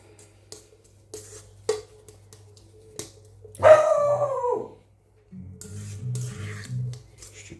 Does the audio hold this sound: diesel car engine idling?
no